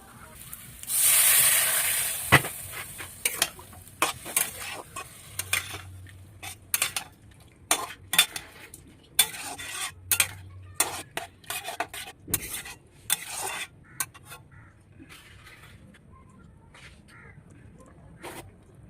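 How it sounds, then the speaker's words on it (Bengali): Potatoes are stirred in a pan for a soybean curry, a brief hiss at the start followed by a series of close, sharp spatula scrapes and knocks against the pan, irregular and spaced out, with quiet gaps. "রাইস সয়াবিনের জন্য আলু কষাচ্ছি"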